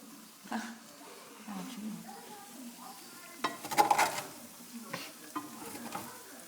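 Food sizzles and fries in a worn frying pan in a home kitchen. A quiet, steady crackle runs throughout, broken by scraping, stirring and the clink of utensils, with faint voices in the background.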